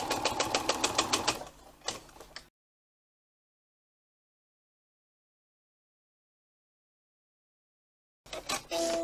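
A sewing machine stitches the seam of a tote bag at an eighth-inch allowance, a fast, even rattling run that slows and stops. Long silence follows, then the machine starts again briefly at the end.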